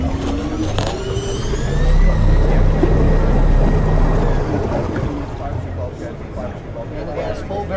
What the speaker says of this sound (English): Basically has full variable reverse.